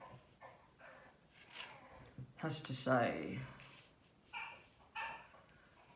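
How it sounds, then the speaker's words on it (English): A dog crying and whimpering at a door indoors, a few short high whines and yelps rising over a quieter background, with a voice speaking briefly. "That is my dog sitting at the door."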